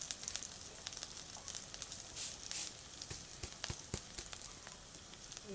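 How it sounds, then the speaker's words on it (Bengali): Raw pulao rice goes into a pot of long-cooked spices and ginger, setting off a steady, moderate sizzle crackling with fine pops throughout, with no voices. "তাই আমি এবার পোলার চালটা দিয়ে দেবো"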